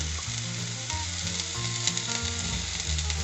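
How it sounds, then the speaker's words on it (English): Chopped onions sizzle steadily in a hot pan at the start of a homemade tomato sauce, a dense continuous frying hiss with low hum underneath, close and even throughout, no voices. "Onions is the first thing you toss on the pan."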